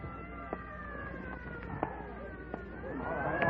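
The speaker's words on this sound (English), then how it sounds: "Clear the way for the ambulance." An ambulance siren wails steadily through the clip, medium-loud with sliding tones, and grows slightly louder toward the end as it approaches, with scattered voices and street noise around it.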